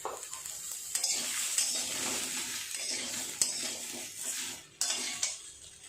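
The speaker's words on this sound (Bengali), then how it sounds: "সব সবজি একসাথে দিয়ে এবার মশলা দিয়ে কষিয়ে নেব।" Mixed vegetables stir-fried with spices and turmeric powder in a hot pan give a steady, close sizzle, broken by scraping stirs and a few sharp utensil clinks against the metal.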